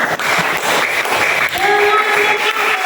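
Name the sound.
group applause for group 1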